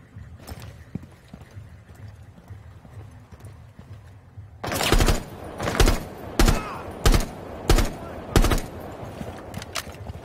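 Gunfire in the video game Rainbow Six Siege comes as six loud, evenly spaced shots or short bursts after a quieter stretch of background game ambience, close and punchy.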